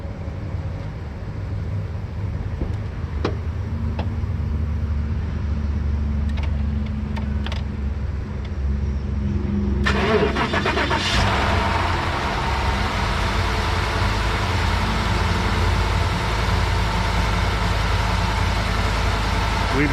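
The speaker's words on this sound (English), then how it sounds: "We'll walk over here and start the truck." A Ford F150 pickup truck, just repaired after a melted fuel pump fuse, cranks and starts about halfway through, then its engine keeps running in a loud, steady idle from close by.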